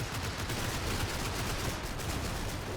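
Continuous volleys of machine-gun and 37mm cannon fire from Stuart tanks in the Combat Mission wartime strategy game, a dense, unbroken crackle of shots rolling on steadily with no talking.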